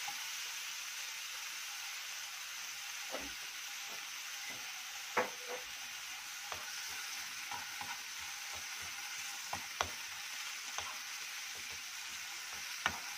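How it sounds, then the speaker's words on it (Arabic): Garlic fries gently in a couple of spoonfuls of oil, a soft continuous sizzle close by with scattered light clicks and taps of stirring, fairly quiet throughout. "معلقتين حلوين كده ونحمر في الثوم بس ايه ياخدوا لون اصفر بس."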